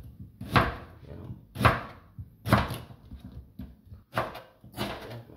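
Ginger chopped on a cutting board with a knife, five distinct thudding chops spaced about a second apart, close and fairly soft, with a brief spoken word among them.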